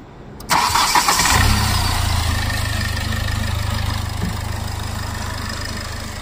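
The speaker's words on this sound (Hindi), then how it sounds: "अब करते हैं गाड़ी स्टार्ट" A 2018 Hyundai Verna with a replaced sensor cranks briefly and catches, then settles into a steady, close engine idle that holds to the end with no talking.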